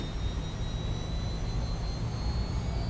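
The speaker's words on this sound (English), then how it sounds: "Listen to those engine sounds." Jet engines of a JustFlight Fokker F28 in Microsoft Flight Simulator, a steady loud roar with a faint high whine running throughout, no talking.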